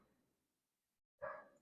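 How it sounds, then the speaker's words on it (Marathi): A dog downstairs gives a single short bark after a near-silent pause, sharp but muffled and somewhat distant, following faint low background noise. "जेव्हा व्हिडिओ करायला बसते तेव्हा हा खालचा कुत्रा भुंकतो."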